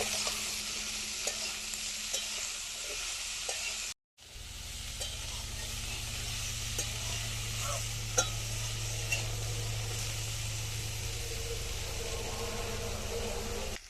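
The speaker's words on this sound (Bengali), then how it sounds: "আলু, শিম, বেগুন দিয়ে দেবো। একটু ভাজবো।" Potatoes, flat beans and eggplant fry in hot oil in a pan, giving a steady, close sizzle with a brief break partway through and occasional stirring clinks.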